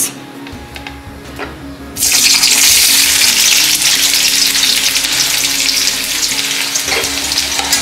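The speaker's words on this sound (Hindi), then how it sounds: "और इसको अच्छे से सौटे करेंगे इन प्याज को ज़्यादा नहीं ब्राउन करना है" Chopped onions dropped into hot oil burst into a loud, steady sizzle that stays strong for several seconds, with faint clinks beforehand.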